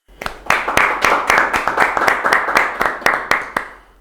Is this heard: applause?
yes